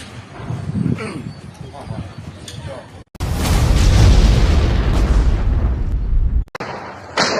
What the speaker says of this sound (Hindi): फायरिंग की ये आवाज बता रही है कि कैसे यूक्रेन के ज्यादातर इलाकों में अब जमीन